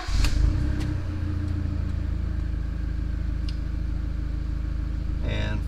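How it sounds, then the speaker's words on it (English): A Kia Sportage engine cranks and catches, then settles into a steady low rumble; a brief higher whir near the end. "We're going to start the car up."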